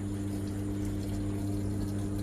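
A Samsung fully automatic top-load washing machine takes in water with a steady hum and soft trickle. The sound is close, even and unbroken.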